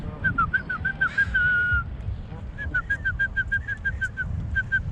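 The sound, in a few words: person whistling to birds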